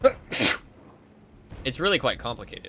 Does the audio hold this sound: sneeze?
yes